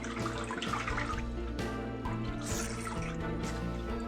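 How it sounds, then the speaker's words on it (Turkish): Olive leaf vinegar strained slowly through a filter, liquid dripping and trickling steadily into a container at close range, continuous and fairly soft with no talking. "İyice bunu yavaş yavaş süzdüreceğim."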